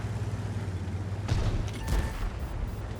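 Gunshots ring out in a tank battle video game, two fairly sharp reports about half a second apart over a steady low engine rumble, moderately loud but not dominant.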